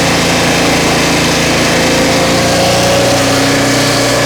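A Turbosawmill engine runs steadily while cutting a log, a loud, constant engine drone with a sustained whine throughout and no talk.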